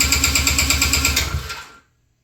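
An old engine, choke pulled, cranks over and over in a quick even rhythm without catching, then the cranking cuts off abruptly into silence.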